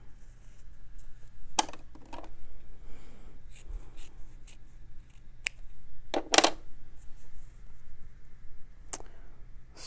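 Scissors snip through bulky quilt-block fabric, a few sharp close cuts spaced irregularly over a quiet room hum, with faint rustling of the cloth between snips and no talking.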